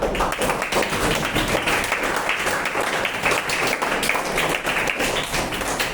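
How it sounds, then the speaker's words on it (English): Audience clapping in a classroom-style discussion session, a continuous busy patter of many hands at moderate loudness, with little talk over it. "Please clap"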